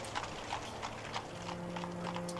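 Horse hooves clip-clop at a steady walking pace as a sound effect during a tabletop role-playing session, with even repeated hoof strikes over a low steady hum and no talk.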